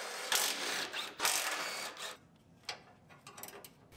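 A ratchet wrench backs out the bumper reinforcement bolts on a Ford Explorer Limited AWD under collision repair, with rapid close clicking in two bursts, then a few scattered lighter clicks.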